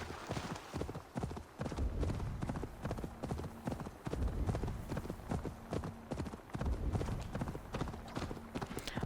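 Steady rhythmic clip-clop of horse hooves trotting on hard ground in the video game Assassin's Creed Valhalla, continuing throughout with brief pauses between strides.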